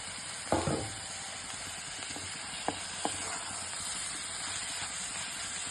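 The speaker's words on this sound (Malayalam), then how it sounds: "രണ്ട് ചെറിയ തക്കാളി അരിഞ്ഞിട്ടുണ്ടായിരുന്നു അതും കൂടി ഞാൻ ചേർത്ത് കൊടുക്കണം" Chopped tomatoes hit a hot pan for chicken curry with a brief splashy burst, then a steady soft sizzle and hiss continues, broken by a couple of light clicks of stirring.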